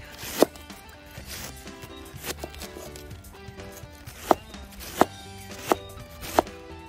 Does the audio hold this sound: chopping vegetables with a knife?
yes